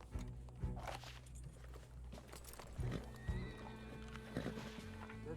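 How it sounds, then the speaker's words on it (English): A horse approaches in the RedM roleplay game, a Red Dead Redemption 2 world, with clip-clopping hooves, snorts and a whinny close by, fairly quiet. "horse is creeping up on me."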